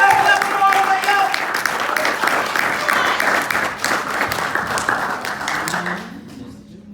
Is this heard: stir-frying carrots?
no